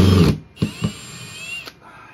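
A power drill drives a screw into a cabinet speaker, its bit slipping and popping out of the screw head: short whirring bursts separated by sharp clicks and a sustained whine, heard up close.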